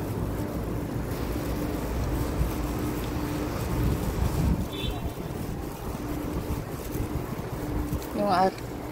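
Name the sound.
cold wind blowing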